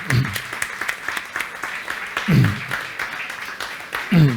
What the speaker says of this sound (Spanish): Un aplauso para él, por favor, que es un valiente.